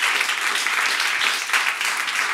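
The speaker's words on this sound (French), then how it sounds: "J'aimerais ça qu'on l'applaudisse." Audience applause fills the room at a live show, a thick continuous wash of many hands clapping at an even level throughout, close and without a break.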